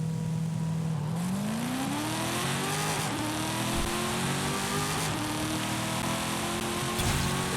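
A Dodge Challenger Demon in drag tune launches in second gear, its engine note climbing steadily in pitch as it pulls, with a brief shift-like dip partway through and a continuous loud, near roar.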